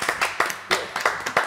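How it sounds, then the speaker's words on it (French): A few pairs of hands clap in a quick, irregular burst for guests on a French radio show, close and dry with distinct individual claps. "on les applaudit quand même"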